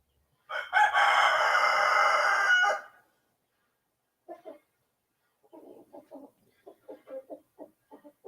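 A flustered backyard rooster lets out one loud, sustained crow, then after a pause gives a string of short, clipped clucks, close and with no talking.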